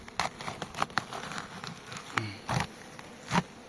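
A small honeybee swarm in a four-frame hive box buzzes faintly and close, with scattered soft taps and crackles over the low drone, and no talking.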